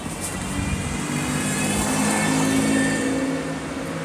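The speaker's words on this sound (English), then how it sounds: "See if you guys can hear the fans on right now" Cooling fans of a new car run with a steady, even whooshing drone that holds at a constant level throughout, close by and alone with no talk over it.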